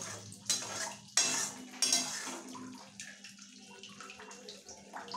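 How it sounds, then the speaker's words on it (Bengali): Cooked doi fish curry moved from a pot into a serving dish, with a few sharp metallic clinks and scrapes of a utensil followed by softer handling sounds, close by. "এবার মা ডিশে ট্রান্সফার করবে।"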